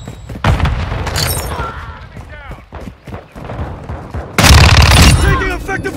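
Gunfire and explosions in a Call of Duty: Modern Warfare multiplayer Kill Confirmed match on Kunstenaar District, with bursts of shots, loud booming blasts and shouted voice callouts overlapping in a chaotic, close mix.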